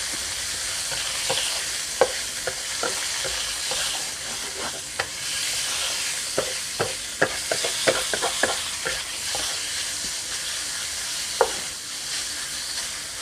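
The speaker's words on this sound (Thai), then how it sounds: "เอาหมูลงไปผัดให้สุก หมูผัดใส่กระเทียมให้สุก" Pork and garlic stir-fry in a pan, a constant close sizzle broken by repeated scraping and clacking strokes of a spatula at an irregular rhythm.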